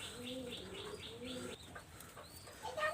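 Pigeons, among them a male, coo in low rolling phrases close by, with a few higher chirps and a brief flutter toward the end.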